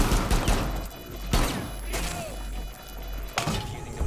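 Gunfire in a Rainbow Six Siege round, several sharp loud shots and bursts at irregular intervals over a background of game sounds.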